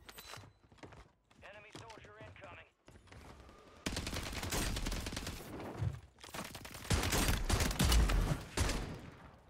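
Gunfire in a Call of Duty game, mostly shotgun blasts, rattles out in dense, rapid volleys that grow louder and more continuous after a quieter opening where a voice talks.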